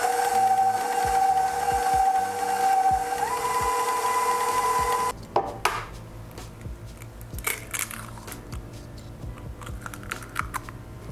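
An electric mixer whirs steadily while beating eggs into brown butter chocolate chip cookie dough, its motor tone shifting pitch partway through before cutting off, followed by scattered clinks and scraping sounds in the bowl.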